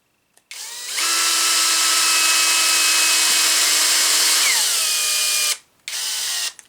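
A power drill drives a 3 x 14 cylinder-head screw into plastic on a car body: one continuous loud whirring run of about four seconds, pitch dropping as the screw seats, then a brief second burst.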